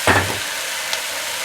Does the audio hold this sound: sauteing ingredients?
yes